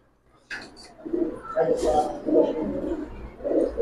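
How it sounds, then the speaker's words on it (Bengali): Cooing from a Sapchila, an old-breed pigeon kept in a fancy pigeon collection, runs as soft low throaty pulses through most of the clip, moderately close, mixed with other background noise. "সাপচিলা পুরান জাতের একটা সাপচিলা কবুতর ভাই"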